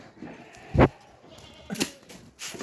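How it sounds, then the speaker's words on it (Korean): Goats on a small farm bleat in a few loud, close cries, one strong call followed by a shorter, rougher one, with faint rustling and clatter between them. "아 앞에 염소들이요."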